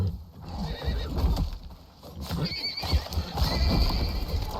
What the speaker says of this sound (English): A cross between a horse, a boar, and a raptor.